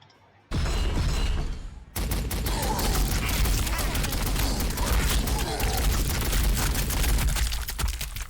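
Sustained rapid fire from a Gatling cannon in the strategy video game Warhammer 40,000: Sanctus Reach, a dense, loud roaring burst that starts abruptly, breaks briefly, then continues as a constant rattling barrage.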